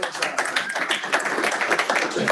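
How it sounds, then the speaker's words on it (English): Applause from a group at a real-estate team meeting: dense, steady clapping from many hands filling the room throughout, fairly loud and continuous, with no clear speech over it. "We've got round of applause."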